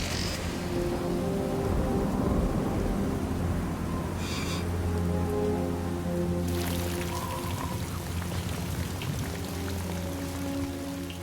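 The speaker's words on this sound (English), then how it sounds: "But the rain isn't stopping." Heavy rain falls during a storm on a mountain cliff face, a steady, dense wash of drops that continues without a break, with a low tonal hum underneath.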